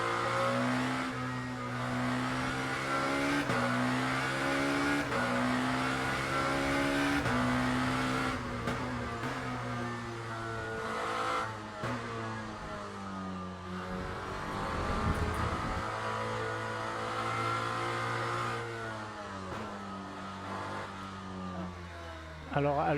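The 2024 Lamborghini V8 race car in the Le Mans Ultimate sim at the Imola circuit screams through repeated upshifts and rev climbs, with sharp downshifts under braking. The engine is loud and close, and someone talks over it.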